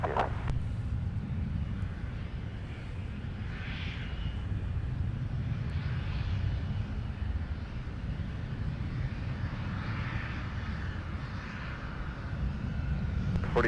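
An airliner on takeoff roll from runway 17 at Minneapolis–Saint Paul airport: a low, steady jet roar that stays constant throughout, heard from a distance without any voices.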